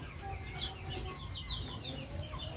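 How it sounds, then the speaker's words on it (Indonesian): Farm chickens cluck steadily at moderate distance, with overlapping short calls from several birds and no talking. "Inilah ayam kita"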